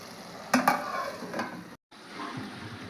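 A prawn and egg curry is stirred in a pot on the stove. Two sharp scraping knocks come first, then a soft bubbling sizzle with brief clatters. A short gap of silence falls near the end.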